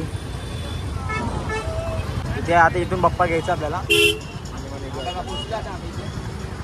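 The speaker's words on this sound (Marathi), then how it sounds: "मागे ट्रॅफिक खूप आहे" Busy road traffic during the Ganesh festival, with engines rumbling and several car horns tooting in short bursts and one longer blast, close by, while someone talks over it.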